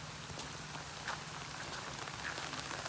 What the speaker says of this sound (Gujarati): આપણા નસીબ એટલા ફૂટલા છે ને મિત્રો કે જો વરસાદ આવી ગયો